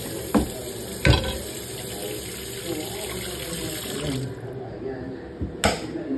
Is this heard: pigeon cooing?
no